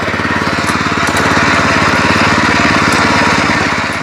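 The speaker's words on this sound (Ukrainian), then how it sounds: "Закрили заслонку, завели і прибрали заслонку." A Loncin LC-1200 walk-behind tractor engine runs steadily after starting, a loud, close, continuous mechanical drone with a rapid even chug throughout and no talking.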